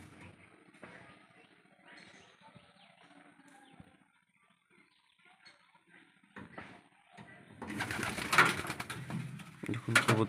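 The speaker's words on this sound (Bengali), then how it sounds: "দেখুন কবুতর বের হইতে পারছে" Pigeons in a flying loft fitted with a trap make scattered soft coos and rustles, then a loud burst of flapping wings and movement toward the end.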